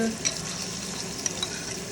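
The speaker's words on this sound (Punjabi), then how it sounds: "ਅਦਰਕ ਇਹ ਆਪਾਂ ਨਾਲ ਵਿੱਚ ਪਾ ਦਾਂਗੇ ਇਹਨੂੰ ਆਪਾਂ ਬਰਾਊਨ ਕਰਾਂਗੇ" Garlic and ginger frying in hot oil for a pav bhaji tempering, giving a steady, even sizzle with a few small crackles throughout, close and moderately loud.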